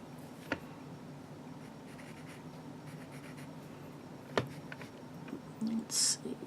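Pencil strokes scratch steadily on paper while shading dark shadow under a kingfisher's wings, a soft continuous graphite rasp close to the ear with a few sharper taps and a brief louder scrape near the end.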